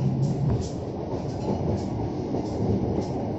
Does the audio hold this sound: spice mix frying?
no